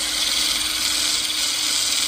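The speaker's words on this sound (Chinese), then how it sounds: "打磨一些小东西螺丝刀或者其他东西也是没问题的" An angle grinder fitted with a worn-down, reused small cutting disc grinds a screwdriver, giving a steady, bright, close whine with no breaks across its short length.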